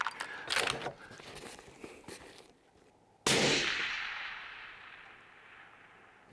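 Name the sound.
suppressed rifle shots at AR500 steel deer target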